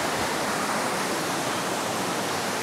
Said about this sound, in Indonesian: Dan perjalanan kita terbayar dengan air terjun.